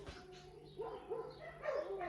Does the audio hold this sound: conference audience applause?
no